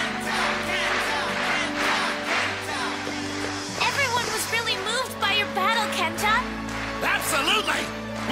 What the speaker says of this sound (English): Everyone is cheering for you.